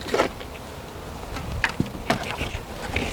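Honey bees buzz around an open hive during an inspection and split, a steady close hum with a few sharper bursts and knocks.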